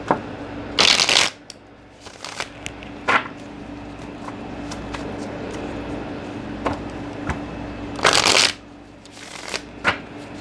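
Tarot cards, including a Decameron deck, are shuffled and drawn by hand: close bursts of riffling and flicking with soft slides and taps between, two longer shuffles standing out.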